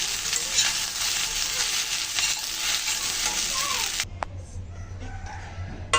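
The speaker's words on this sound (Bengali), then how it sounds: "সব কিছু সুন্দর করে মিশিয়ে এখন নামিয়ে নিচ্ছি" Pasta being stirred in a hot pan with cumin and garam masala, a steady close sizzle with scraping strokes that drops away sharply near the end, leaving a low hum and faint clinks.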